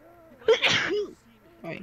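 A single sharp sneeze bursts out amid a tense scene, loud and close, with people talking just before and after it.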